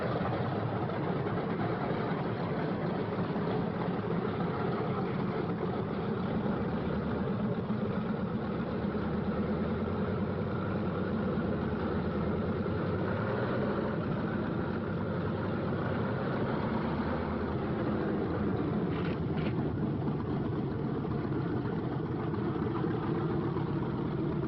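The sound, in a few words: P-47 Thunderbolt fighter plane engines warming up on airfield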